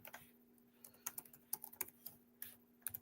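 Quiet tapping on a computer keyboard, irregular clusters of light key clicks with short pauses between bursts, close by over a faint steady electrical hum.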